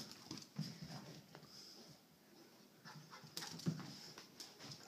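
A dog whimpers softly in short, faint bursts, mixed with quiet panting and sniffing in a hushed room.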